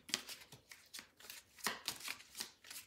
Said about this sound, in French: On va rajouter des cartes pour avoir des messages en plus sur ce tirage.